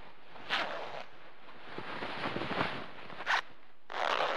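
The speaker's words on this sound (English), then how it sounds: "Zipper sounds intensify" Zipper sounds in the Resident Evil video game changing room come as several quick zips, with three sharp bursts separated by softer rustling and scraping, clear and close.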